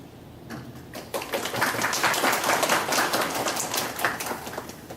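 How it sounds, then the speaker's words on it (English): An audience at a teaching workshop breaks into moderately loud applause, rising quickly after a brief quiet start and continuing as a dense patter. "please help me welcome Dr. Velez with round applause"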